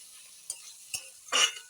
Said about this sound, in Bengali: এই যে এখন জিরা আর লঙ্কা দিয়ে দিচ্ছি।